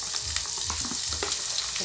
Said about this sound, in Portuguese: Vou pegar a cebola aqui. Vou colocar aqui, ó. Pra dar só uma passadinha, né? Não vou deixar ela dourar, não.